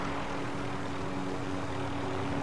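A helicopter in the game Call of Duty Warzone drones with a steady, continuous rotor and engine roar, close and constant, with no talking over it.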